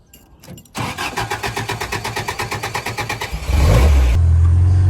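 A Jeep's starter cranks in a quick, even rhythm for a few seconds out on a floodplain. The engine then catches, revs up loudly nearby and settles into a rough, throbbing idle.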